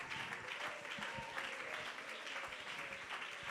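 Church congregation clapping steadily through the whole short stretch, a dense, moderately distant wash of applause with no voices on top.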